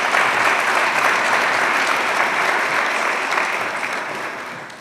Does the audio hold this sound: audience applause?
yes